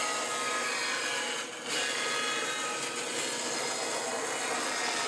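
A bandsaw with a freshly sharpened blade cuts through wood, making a loud, steady rasping whir that runs almost unbroken apart from one brief dip, close and with no voices.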